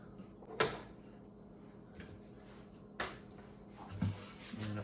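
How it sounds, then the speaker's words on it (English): A wooden drawer is slid into a homemade shop storage cabinet, resting on spacers a quarter inch off the bottom: a sharp knock, then several fainter bumps and scrapes spaced about a second apart, quiet and close. "now we're ready to put the drawers in"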